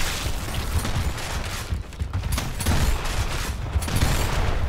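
Gears of War gunfire crackles in rapid, dense volleys with rattling bursts and booms throughout, loud and close, with no speech.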